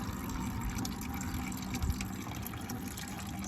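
Coolant drains from the radiator of an off-road vehicle during a high-clearance radiator install, a steady faint trickling, splashing flow heard close and continuous.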